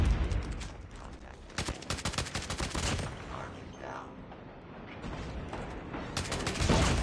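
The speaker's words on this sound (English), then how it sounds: "I bet hip firing this weapon's a nightmare." Rapid bursts of Oden rifle gunfire hip-fired in a video game, loud clustered shots with short pauses between volleys, and someone talking over parts of them.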